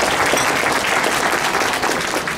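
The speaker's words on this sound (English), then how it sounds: "A big round of applause for him and his staff." An audience at an annual benefit dinner applauds steadily, a dense, loud wash of clapping with no voices over it.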